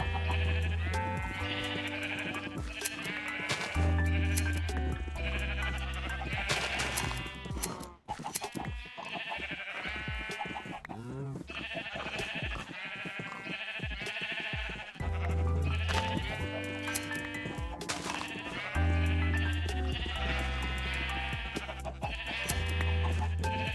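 Repeated sheep bleats from Minecraft sound over and over in a looping tonal pattern with a steady musical bed underneath, several calls spread across the stretch with a brief dip midway.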